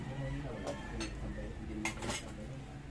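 A metal cooking pot clanks as it tips over while pork adobo cooks Visayan style: a few scattered metallic knocks and clinks over a steady sizzling, low background bed, with faint voices underneath.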